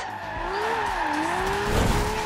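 A Ferrari in the racing game Forza Horizon 2 holds a steady engine drone while its tires squeal in a long, wavering screech, loud and close throughout with no talk.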